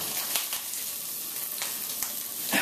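Spam fries and browns in a hot Teflon pan on a high stove, giving a steady bright sizzle with a few sharp pops and crackles scattered through, close and alone.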